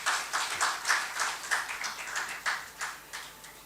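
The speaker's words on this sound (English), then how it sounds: "let's give him a clap" An audience claps to welcome a guest at a formal event, a steady run of soft, overlapping hand claps at moderate distance with no voices over it.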